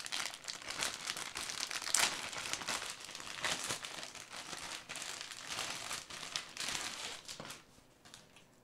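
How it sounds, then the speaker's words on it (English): The plastic packaging of a One Piece Ichiban Kuji towel prize is torn open by hand, with continuous close crinkling and crackling of the plastic that fades out near the end. "Seems like it needs to be cut open. I'll just tear it open."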